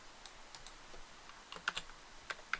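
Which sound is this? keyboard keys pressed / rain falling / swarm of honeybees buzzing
keyboard keys pressed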